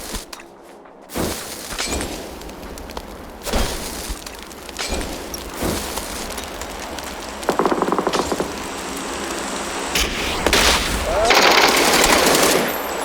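Rapid automatic gunfire in the PUBG video game comes in repeated loud bursts with sharp cracks and some shattering impacts, while voices talk over parts of the action.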